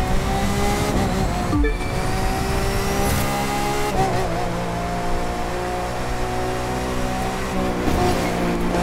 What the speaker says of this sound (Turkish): ver gazı Toygun